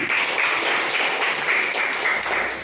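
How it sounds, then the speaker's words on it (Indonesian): A classroom of pupils claps for a classmate, a dense, steady patter of many hands close by that holds at an even loudness throughout with no talking. "tepuk tangan buat Sofi"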